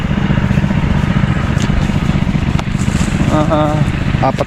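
A motor engine drones loudly and steadily throughout at close range, with a brief voice rising over it near the end.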